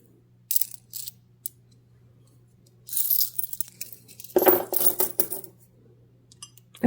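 Coins clink and rattle in a money bowl, first a few sparse taps, then a denser run of jangling metal as they are stirred and dropped, close and fairly loud with no talk.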